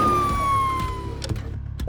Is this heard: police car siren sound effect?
yes